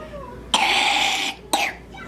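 Child coughing while sick, two harsh coughs close by, the first drawn out and rough, the second shorter, over a quiet room.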